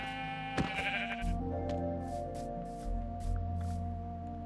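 Several sheep bleat in a video game, wavering calls over steady low background music, one short sharp click early on.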